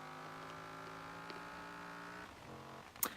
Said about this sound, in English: the highest you can go is a V10 engine, which sounds like this.